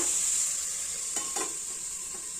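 Beetroot and carrot stir-fry frying in a pan on medium flame gives off a faint, steady sizzle, with a couple of soft stirring scrapes near the middle.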